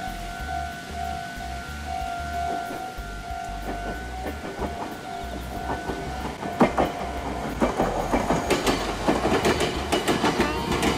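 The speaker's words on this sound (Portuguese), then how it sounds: "Olha o trem vindo." A train rolls past on railway tracks, its rumble building from a low steady drone into loud, rhythmic clickety-clack of wheels over rail joints as it draws near.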